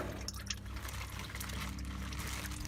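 Engine oil drains from a Prius C into a catch container in a quiet, continuous liquid pour and trickle, faint and steady, with a few small clicks and handling noises.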